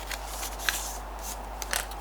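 Sheet of white origami paper rustling and crinkling as it is folded, soft close handling noises with a few sharper crisp creases, no talking.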